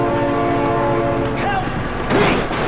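Train horn in the video game BeamNG Drive, a loud sustained blast that holds for over a second, followed by rail rumble and a sharp crash-like burst. Voices shout over it.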